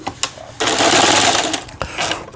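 A Yamata FY900 sewing machine, freshly repaired, runs a straight seam in one loud, steady burst of about a second, bracketed by short clicks and quieter mechanical noise before and after.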